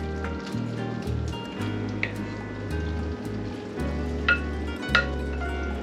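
Pieces of pork drop into a thick, simmering stroganoff sauce, making soft wet squishes and sizzling bubbles over a steady background hum.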